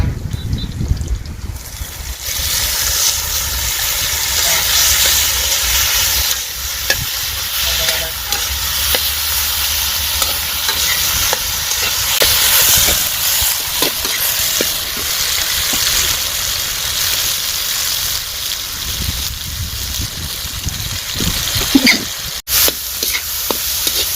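Onion and tomato frying in a pan for an Indian crab curry, a continuous loud sizzle with occasional scraping stirs, close up and steady throughout, with no talk.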